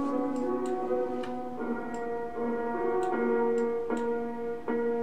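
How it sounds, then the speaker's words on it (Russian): A sound sample played with heavy reverb, sustained harmonic tones with bright ticking attacks repeating roughly once a second and ringing into each other, steady and close with no talking. "Вот это вот реверберация только играет."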